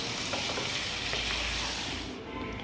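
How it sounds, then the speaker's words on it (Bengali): Mango pieces are stirred into pickle spice mix frying in a pan, giving a dense steady sizzle with soft scraping stir strokes throughout, loud and close. "এই যে অল্প অল্প করে দিচ্ছি আর অল্প অল্প করে মিশিয়ে নিচ্ছি।"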